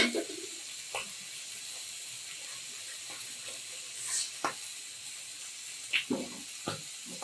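Green chillies dropped into hot oil after fish has been fried produce a soft, continuous hiss and sizzle, with scattered light stirring taps and clinks close by.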